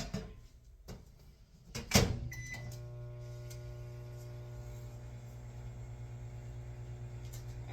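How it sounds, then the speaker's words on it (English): A kitchen microwave oven heats a bowl of partly melted marshmallows for rice crispy treats. A few soft clicks and a thud from the door and controls are followed by a steady, low electrical hum. "we're going to pop it back in the microwave"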